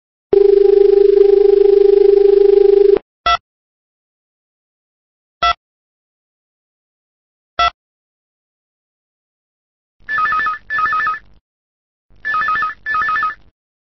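On an EPABX phone system, a steady dial tone sounds, then a few brief isolated key beeps while dialing, followed by two pairs of electronic ringback rings, clean and loud with no voices.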